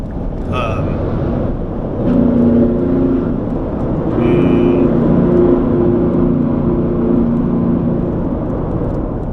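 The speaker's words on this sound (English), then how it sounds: "I love the sound of Jake's in a tunnel." A heavy truck's engine brake drones low and steady in a tunnel, its rumbling tone echoing off the enclosed walls, with a faint whine over the top.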